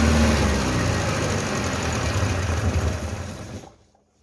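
A 1974 Citroën DS21, left unstarted for over six years, idles with a steady loud rumbling drone for several seconds, then the engine dies abruptly and falls silent.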